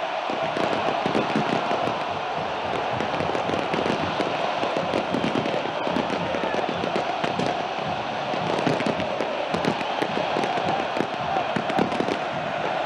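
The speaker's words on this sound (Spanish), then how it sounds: "Desde los cuatro costados explotó el estadio." A roaring stadium crowd in the FIFA 17 football game greets Gimnasia y Esgrima de La Plata with dense, continuous crackling fireworks, a loud steady wall of bursts and cheering that never lets up.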